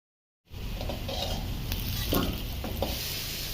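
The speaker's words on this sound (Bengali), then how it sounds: "অবশিষ্ট তেলে দিয়ে দেব কেটে রাখা আলু নুন দিয়ে বেশ নাড়াচাড়া করে লালচে করে ভেজে তুলে নিতে হবে" Cut potatoes with salt fry in leftover oil in a pan, a steady close sizzle starting abruptly after silence, with a few light stirring scrapes over the hiss.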